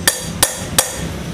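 A handlebar used as a striking tool hits a part of an automatic scooter's gearbox three times at an even pace, giving crisp, close metallic knocks with no voices.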